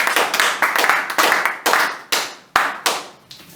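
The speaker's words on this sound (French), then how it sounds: "Tu peux acclamer 3 fois pour la gloire du Seigneur" A church congregation claps in praise during a worship service: about a dozen sharp, loud claps in loose rhythmic bursts, with no voices over them.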